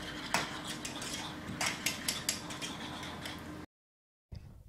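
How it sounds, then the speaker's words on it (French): Stirring homemade citrus-honey hair lotion ingredients in a container, steady clinks and scrapes of a utensil against the sides with a few sharper taps, close and fairly quiet, then a brief silence before scraping resumes. "Je mélange bien pour bien que tous ces éléments soient bien incorporés les uns aux autres."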